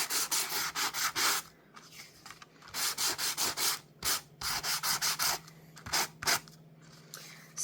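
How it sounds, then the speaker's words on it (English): A sanding block is rubbed over embossed plaid cardstock in quick bursts of short scraping strokes, close and fairly loud, with brief pauses between runs. "to dress up this plaid just by using your sanding block"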